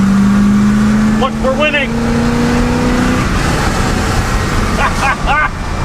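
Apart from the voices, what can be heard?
pickup truck with swapped boat motor accelerating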